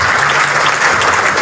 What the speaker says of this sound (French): il vaut mieux applaudir. On va encore applaudir.